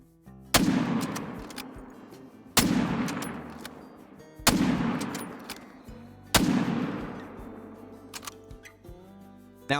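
Rifle shots fired at red deer in a hunting game: four sharp, loud single reports spaced about two seconds apart, each trailing into a long echoing decay, with no talk.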